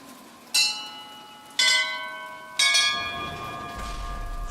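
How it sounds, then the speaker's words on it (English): In the video game Bioshock Infinite, a bell rings three times at roughly one-second intervals, each loud, resonant strike ringing out and overlapping the last before a low rumble rises at the end. "let's use the bells"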